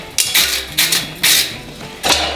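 A hammer strikes a horseshoe at the forge, flattening the steel in a steady series of four or five bright, ringing metallic blows at close range, with no talk.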